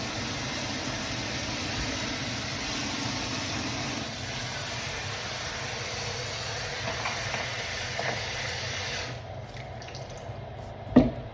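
Water pours steadily from a kitchen tap into a sink, a constant loud hissing rush that continues for several seconds, then cuts off near the end, followed by a single small clink.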